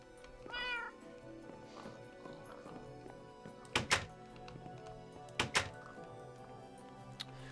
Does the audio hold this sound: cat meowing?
yes